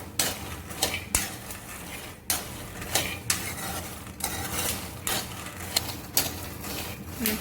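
Peanuts roasting in a pan, stirred with a utensil that scrapes and knocks against the metal at an irregular rhythm, close and fairly soft.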